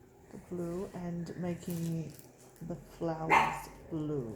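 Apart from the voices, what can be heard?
dog barking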